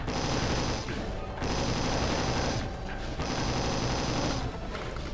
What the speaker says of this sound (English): I'm just gonna take out the chain gunner from here, though.